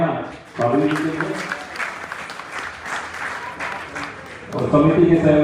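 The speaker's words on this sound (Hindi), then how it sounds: "एक बार जोरदार तालियां साध्वी जी के लिए।" Enthusiastic audience applause at a community Diwali gathering in Satna, steady clapping running under and between voices, with speech audible at the start and end.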